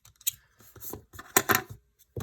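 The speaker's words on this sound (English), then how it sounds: "take your scissors and you want to cut off the small edge left over" Scissors snipping off a small leftover edge of string while tying a jellyfish craft: several quick, close, crisp cuts in short bursts, with brief pauses and no talking.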